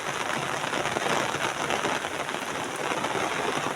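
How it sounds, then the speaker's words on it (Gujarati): Steady, dense rain falls continuously, a broad even patter close by with no voices. "તમે જુઓ હજુ વરસાદ ચાલુ જ છે"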